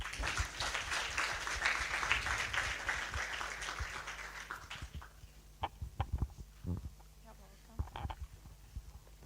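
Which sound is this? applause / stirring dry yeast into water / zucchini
applause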